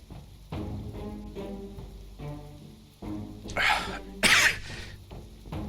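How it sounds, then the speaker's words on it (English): Coughing from a tickling throat, a couple of sharp bursts midway, heard close between stretches of a voice talking. "My throat is tickling,"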